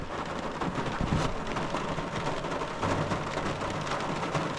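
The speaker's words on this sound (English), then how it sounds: "I'm sitting here in the rain." Steady rain falls throughout while a thunderstorm rumbles low and close, with stronger bursts near the start and middle and no voices.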